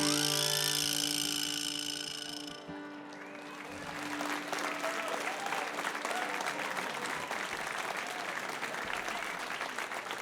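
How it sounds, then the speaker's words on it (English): Music fades out as a live music show crowd breaks into sustained applause, dense clapping and a few cheers filling the room for several seconds. "Let's keep that round of applause going for the staff here"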